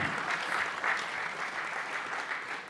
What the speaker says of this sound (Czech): Aplaus samozřejmě mu právem náleží